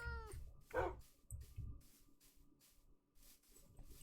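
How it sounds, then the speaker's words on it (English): A cat meowing in Minecraft, one short clear meow at the start followed by a burst of cat vocalizing, set against rhythmic footsteps and quiet in-game ambience. "Oh, a cat."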